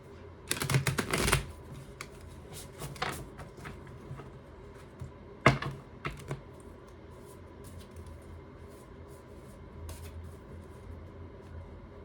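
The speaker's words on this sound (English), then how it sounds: "I just want to reshuffle since I just went through all those" A deck of tarot cards is shuffled in quiet, papery bursts, with a longer riffle at first and then a few shorter flicks and taps spread out over the stretch.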